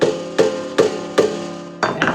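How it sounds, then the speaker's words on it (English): A hammer pounds a railroad spike into the hole of a banjo, giving five sharp, evenly spaced metallic strikes close up, each ringing briefly before the next blow. "We then take the hammer and we just pound"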